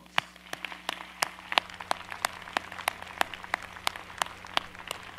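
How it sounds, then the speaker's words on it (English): Applause for the faculty at a commencement ceremony: thin, scattered claps from a crowd, steady but light and somewhat distant, with no talk over them. "they deserve a terrific round of applause"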